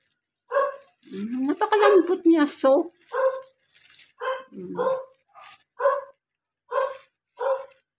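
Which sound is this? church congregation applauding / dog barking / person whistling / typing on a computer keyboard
dog barking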